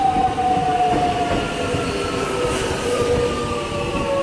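A commuter train runs steadily past on rails at a station, a continuous loud rumble with a sustained high wheel squeal running through it, no talk.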